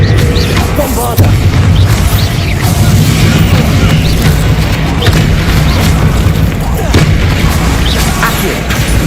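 Bombarda spell explosions in Hogwarts Legacy, heavy booming blasts and crashes over continuous game noise, loud and dense with no clear gaps.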